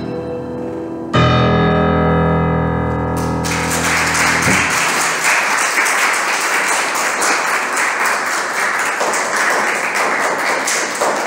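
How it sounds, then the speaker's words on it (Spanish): A sustained piano chord rings out and decays, then a concert audience at a piano recital breaks into loud, dense applause that continues steadily to the end. "Un aplauso grande, con gritos."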